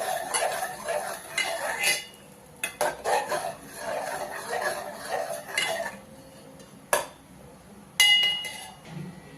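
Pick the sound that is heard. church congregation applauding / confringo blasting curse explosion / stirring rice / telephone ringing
stirring rice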